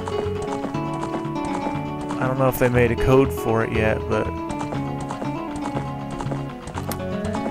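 A horse gallops in the video game Zelda: Ocarina of Time, with rhythmic hoofbeats under loud game music while someone talks over it.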